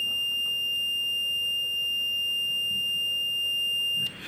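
A continuity tester on a STEMEX1 electronics board emits one steady high-pitched electronic tone lasting about four seconds, clear and close, then cuts off abruptly.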